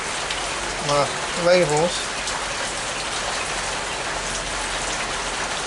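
Steady rain falls in a dense, even hiss, close and constant throughout, while a person briefly speaks near the start.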